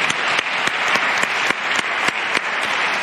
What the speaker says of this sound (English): Big round of applause to our national winners tonight.